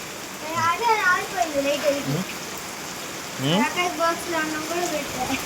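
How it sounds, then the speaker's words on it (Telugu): A steady wash of rain hisses in the background while people talk over it at close range. "మరి వర్షం తగ్గట్లా"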